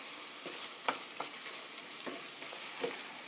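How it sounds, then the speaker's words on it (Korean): Beef stew ingredients stir-frying in a pan, a quiet steady sizzle broken by a few soft scrapes and taps of a stirring utensil, close up with no voices. "제일 나중에 이렇게 볶아주세요."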